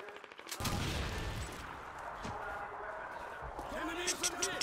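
Gunfire in the video game Call of Duty 2, City Hall mission, rattles in quick bursts and scattered shots at moderate distance, while someone talks excitedly over it.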